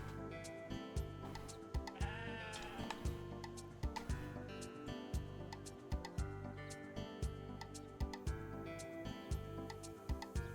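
Sheep bleating in the video game Discounty, set over steady game music with a ticking rhythm; the bleats are moderately loud and repeat several times across the scene.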